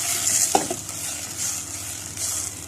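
Tomatoes are added to a pan of hot oil with garlic, vinegar and coriander, giving a close, steady sizzle with a brief clatter of stirring near the start.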